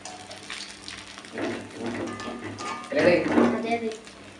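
Cauliflower pieces fry in hot oil in a pan while being stirred, giving a soft hissing sizzle with brief louder bursts from the movement. Voices can be heard in the background.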